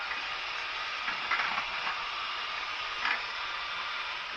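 A TAPO Max Pro robot vacuum mop cleans the floor of a narrowboat, giving a close, steady whirring hiss that runs continuously with a few soft bumps and no talking.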